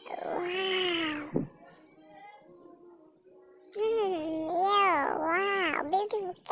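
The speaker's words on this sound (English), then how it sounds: "Beautiful cat." A cat gives long, rising and falling meows, loud and near, in two bursts separated by a quieter gap, with no talk over them.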